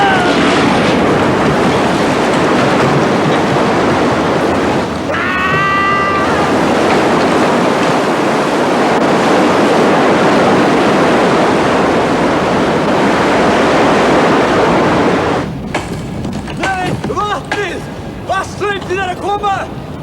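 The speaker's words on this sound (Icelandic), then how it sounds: "Vatnshlaupið er að koma! Vatnið!" A roaring flood of water bursts from a blown-up dam, a loud continuous rushing wash with brief creaks, while excited shouting voices break in near the end.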